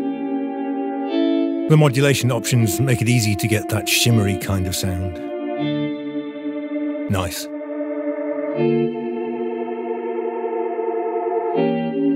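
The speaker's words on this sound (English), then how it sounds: "The modulation options make it easy to get that shimmery kind of sound." A shimmery, modulated guitar pad patch in a 1990s style, built with the Ubermod plugin, rings out as sustained chorus-laden chords, with a busier strummed passage early on and a short spoken word midway.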